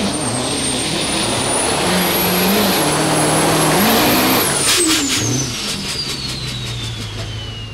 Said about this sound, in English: he is starting to spool. Let's see how this 6-liter handles the competition.